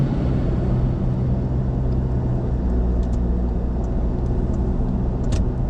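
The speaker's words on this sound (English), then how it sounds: "Just passing a road train." Steady road and engine drone from a vehicle passing a road train on a highway, a continuous low rumble with wind noise and no talking.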